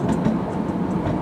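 A diesel train idles at a platform of the Winelands Light Railway station in Stellenbosch, a loud, steady rumble with a faint rhythmic undertone and no speech.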